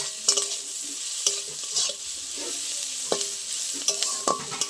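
Onions fry in a pan with a steady sizzle, while repeated sharp scrapes of a stirring utensil come at an uneven rhythm, close and clear with no talking.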